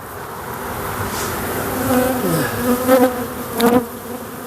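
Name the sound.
honeybees buzzing around an opened hive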